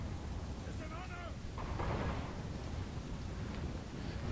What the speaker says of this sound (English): There the rocket batteries start firing.